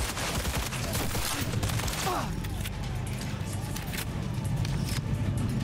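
Rapid bursts of gunfire aimed at the player in the video game Cyberpunk 2.1 crackle over a dense, steady wash of game noise and engine-like rumble, with sharp cracks scattered through the whole stretch.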